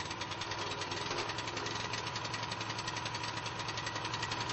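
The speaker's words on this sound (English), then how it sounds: "When the engine starts, open the throttle and allow the engine to reach full speed." A concrete scarifier's small engine runs steadily at speed, a loud, continuous mechanical drone with a rapid knocking pulse that stays even and close throughout, with no voices.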